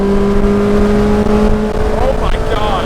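A Ferrari fitted with a Capristo exhaust drones steadily at close range, with a few rising engine swells, while voices talk over it.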